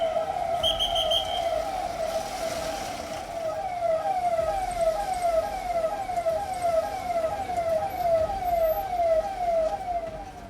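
An ambulance siren with a police escort wails in a fast repeating up-and-down cycle, loud and continuous over road traffic noise, with a brief higher tone near the start.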